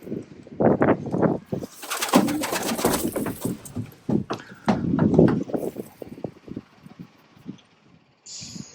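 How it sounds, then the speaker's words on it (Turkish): Tumbler pigeons flying in and landing at a loft, with wing flaps and fluttering bursts close by alongside soft cooing and scuffling, irregular and fairly loud. "Şu anda kuşlarımız hedeflerine indiler."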